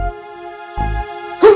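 A dog in a Shinchan cartoon gives two short, loud barks or yips about a second apart, the second one higher and whiny, over a sustained tonal background hum.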